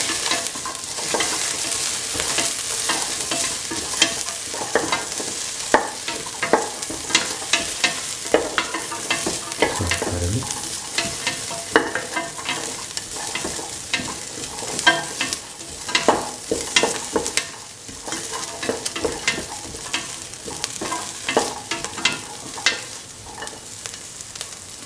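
Ginger, garlic and salt sizzle in a hot pan while being stirred, a steady close frying hiss broken by repeated scraping strokes of the spoon, with no voices.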